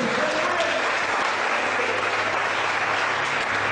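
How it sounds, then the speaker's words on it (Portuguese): Congregation applauding during a church sermon, a thick continuous wash of clapping with a faint low hum underneath. "Dá uma salva de palmas sobre Jesus."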